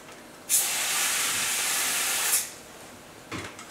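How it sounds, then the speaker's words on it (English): Canola oil sprays in a steady hiss for about two seconds into a pan, close and loud, followed by a brief softer burst. "So we will take the pan off the stove while we spray the canola oil."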